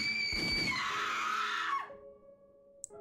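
A long, shrill scream in the horror visual novel game The Letter, sustained and wavering before sliding downward and cutting off, followed by near silence and a single faint click.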